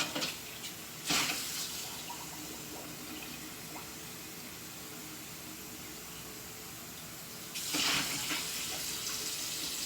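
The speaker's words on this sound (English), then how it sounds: "I always use hot water because hot water kills germs, folks. Kind of rinse it out like this." Hot water runs from a kitchen tap to rinse dishes before they go into a dishwasher, a steady hiss that is loud at the start, drops lower through the middle and rises again near the end.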